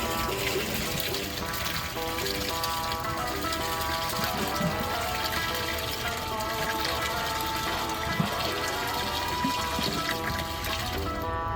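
Water drains from a backyard barrel in a continuous gushing trickle that stays even and fairly loud for the whole stretch, with a faint tonal hum underneath.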